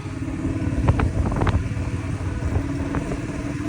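A motorbike ride on a road in Guwahati, Assam, with a steady engine rumble and road noise throughout, a few passing vehicle sounds rising over it, close and continuous.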